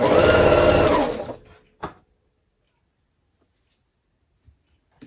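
A sewing machine stitches pieces of a quilt star block in one fast, close burst of rapid needle hammering lasting about a second, then stops, followed by a soft click and near silence.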